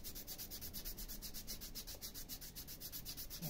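Steady, rhythmic hand sanding of a wooden handcrafted piece by an artisan in Paraíba, with a dense rasping scrape repeating in quick strokes, close and continuous throughout.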